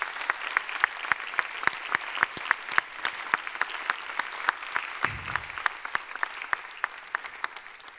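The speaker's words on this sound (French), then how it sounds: "je voudrais que vous les applaudissiez," Applause from a New Year's greetings ceremony audience after a call to honour firefighters, with sharp individual claps at a steady beat and a brief low thump midway, fairly close and on its own.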